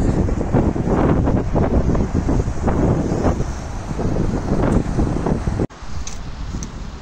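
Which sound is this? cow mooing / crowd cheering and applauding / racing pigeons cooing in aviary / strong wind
strong wind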